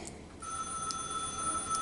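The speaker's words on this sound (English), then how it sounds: "Oh, of course the phone's gonna ring." A telephone rings with bright, steady electronic tones starting partway through, indoors in a room where a litter of three-week-old puppies is kept; moderately loud and alone.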